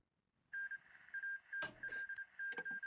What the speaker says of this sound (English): I heard the notification there.